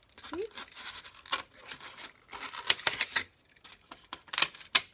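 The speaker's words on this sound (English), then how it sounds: "So we're cutting down the middle." Scissors snip through a brown paper egg carton in short crunchy bursts with some papery tearing, close by, while someone talks over the cutting.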